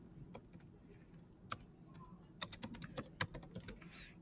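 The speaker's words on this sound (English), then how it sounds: "hit tab, and type in uniform number" Keys on a computer keyboard are tapped, a few isolated strokes early on and then a quicker run of clicks in the second half, close and fairly quiet, with no talking.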